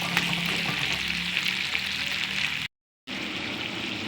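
Beans are stirred into chicken legs frying in a pan, a loud, close, continuous sizzle with stirring that cuts out completely for a moment before the frying resumes.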